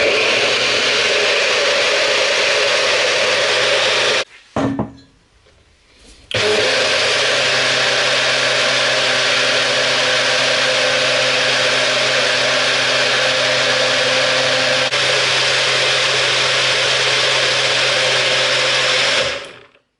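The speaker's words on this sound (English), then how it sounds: "now I'm going to blend it smoothly" A countertop blender runs loud and steady, whirring through a carrot, beetroot, pumpkin and sea moss drink, with a brief pause around five seconds before the motor roars back up and blends continuously to the end.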